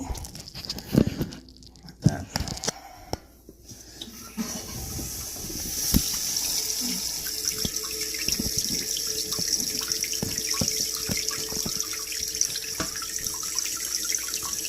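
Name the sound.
water spraying from a new toilet fill valve into the tank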